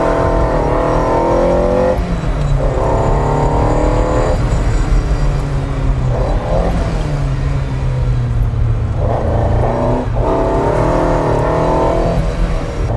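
A Ferrari 308 GTB V8 engine while driving, loud and close, climbing in pitch through repeated gear pulls with brief dips between shifts, and no talk.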